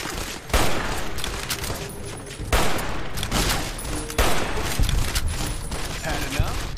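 Dense gunfire from Fallout: New Vegas, played on very hard hardcore mode: sharp repeated shots in bursts, with heavy blasts landing around the one-, two-and-a-half- and four-second marks, loud and continuous over game background.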